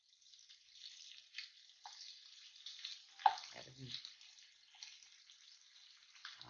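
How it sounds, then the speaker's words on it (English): Shrimp sauté in a hot pan, giving a quiet, steady sizzle with brief scraping bursts as they are turned and moved around. "So now I want to get these turned over, get them sauteed, moving around."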